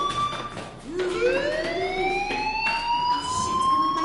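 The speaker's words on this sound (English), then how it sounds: "do you hear that fire alarm?" A fire alarm rings inside the video game Life is Strange, its tone sweeping upward again and again in a loud, continuous wail over a hissy background.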